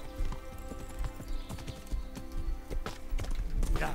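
Horse hooves clopping in quick, uneven beats in Kingdom Come: Deliverance, close and fairly loud over a busy game backdrop, with what may be a brief whinny woven in.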